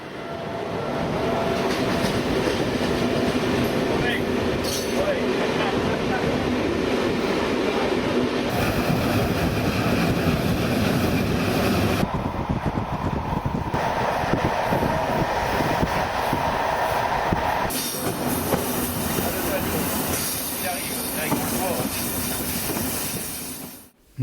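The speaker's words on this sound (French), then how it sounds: "Nous croisons un train régional à Bečka." A train running on a single-track Serbian line near Bečka, passing a regional train: loud continuous rumble and rail clatter with hiss, and the tone shifts abruptly a few times along the way, no voices.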